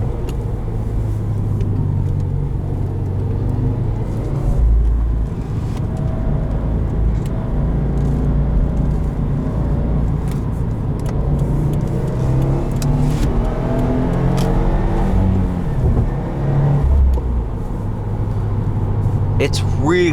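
An all-wheel-drive Subaru WRX accelerating, heard from inside as a continuous loud engine rumble and road noise that rises and falls over about twenty seconds, with someone talking over it throughout.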